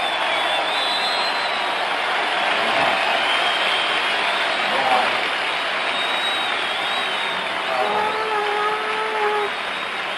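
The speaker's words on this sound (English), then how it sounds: "let's listen to the crowd" The crowd at Fenway Park during Game 6 of the 1975 World Series, Cincinnati at Boston, roars in a dense, sustained wash of cheering and noise that holds steady throughout.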